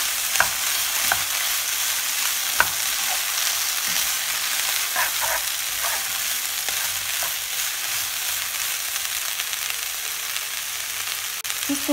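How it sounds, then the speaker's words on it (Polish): Noodles with asparagus stir-fry in a hot pan, steady sizzling with scattered scraping and clacking as food is tossed and stirred, continuous and fairly close. "Całość dokładnie mieszamy i jeszcze chwilę smażymy."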